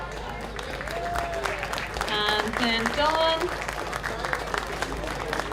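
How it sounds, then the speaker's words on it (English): Audience applause at a boutique fashion show as models come out, steady clapping throughout while a presenter keeps speaking over it. "We're going to give them a big clap"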